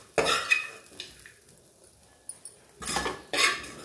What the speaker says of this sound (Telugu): ఇప్పుడు వేయించుకున్నదంతా ఒక బౌల్లోకి తీసేసుకుందాం.